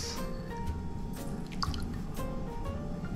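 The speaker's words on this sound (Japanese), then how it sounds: "じゃあ一つの方のボウルに、卵白を入れます。" Egg whites poured into a mixing bowl while baking a low-sugar, high-protein cake, giving soft, wet drips and splashes over a steady low room hum, with no voices.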